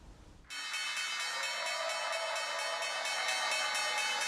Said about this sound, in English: ringing the iconic opening bell at the New York Stock Exchange on Thursday